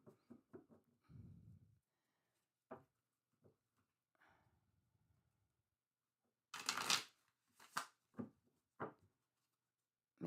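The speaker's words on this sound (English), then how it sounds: "Making sure these are well shuffled" A deck of tarot cards is shuffled in a quiet room, with bursts of crisp riffling and flicking that come in uneven clusters between pauses, close and fairly soft, with no talking.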